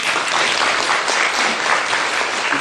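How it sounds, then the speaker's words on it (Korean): Loud, sustained applause from a large church congregation at a Sunday worship service, a thick even roar of clapping that fills the whole stretch. "우리 다시 한번 큰 박수로 축하드립니다"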